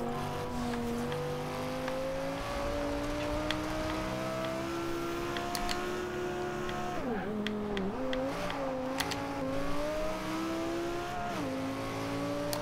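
A 2011 Lamborghini Gallardo LP570-4 Superleggera in Forza Horizon 2, its engine droning loud and steady with pitch rising through the gears, briefly dipping and wobbling mid-run through corners before climbing again.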